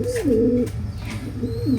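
A pigeon coos close by in two soft, rolling phrases with a short pause between them, over a faint background hum.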